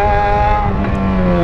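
A motorcycle fitted with an aftermarket loud exhaust runs close by in a steady, throaty drone with strong harmonic tones, with no voices over it.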